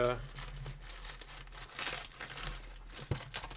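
Plastic wrap being torn and crinkled off an original Pokemon booster box, close and continuous rustling and crackling with a sharp tearing burst near the end, while someone talks.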